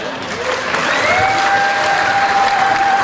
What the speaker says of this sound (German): Wir wollen mehr Applaus!